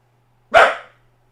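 A single sharp dog bark, close and clear, ringing briefly against a quiet background with a faint low hum.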